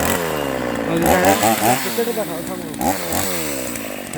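A chainsaw being run in an Italian farm setting to cut tree branches, its engine note rising and falling in loud revving bursts while someone talks over it throughout.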